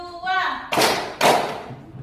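Classroom pupils clap on a teacher's count in a math lesson on matrices. A voice is heard first, then two loud, sharp bursts of clapping about half a second apart, close by.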